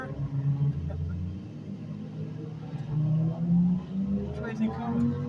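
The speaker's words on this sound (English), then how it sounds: "Man, that traffic." Low road traffic rumbles steadily past a truck parked near a house, swelling louder midway as vehicles pass, with someone talking over it.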